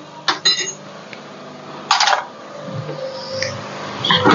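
A large metal spoon stirs boiling macaroni in a pot, giving a few short clinks and scrapes against the metal, close and fairly loud, separated by quieter stretches of bubbling.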